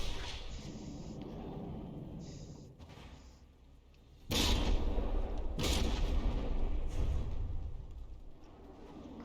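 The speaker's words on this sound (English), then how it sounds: "Cram tanks landing more hits. Gun's still firing." CRAM tank cannons firing during a tank battle in the game From The Depths, with a dull rumbling backdrop, then a sudden loud blast followed by further heavy booms that leave a sustained roar.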